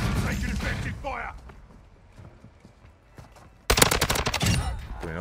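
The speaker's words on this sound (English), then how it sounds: "Taking effective fire." Gunfire in the Call of Duty Warzone video game: a burst of rapid loud shots erupts near the end after quieter game sounds and talk, with shots continuing over the last seconds.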